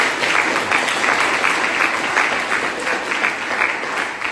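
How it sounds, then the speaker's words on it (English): Sustained applause from an audience at a STEM teaching awards ceremony, a dense, even wash of clapping that holds steady throughout with no speech over it. "Applause for our school leaders."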